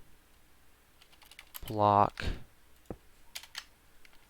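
Computer keyboard keys click in brief scattered bursts while someone talks over them during a Minecraft server session.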